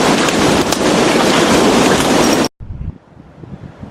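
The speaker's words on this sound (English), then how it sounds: "the wind's really picking up" Strong wind blows outdoors, a loud roaring buffet against the microphone that cuts off abruptly, leaving quieter rustling and ambient noise.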